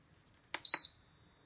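A slow cooker's timer gives one short, clear electronic beep, loud and close, right after a soft button click, with no talking around it.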